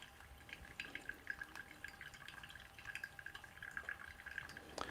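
Water pours in a thin, steady trickle into a Hario V60 coffee dripper, faint and close, with soft splashing and dripping throughout and no talk.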